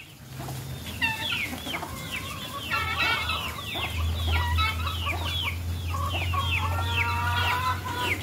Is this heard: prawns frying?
no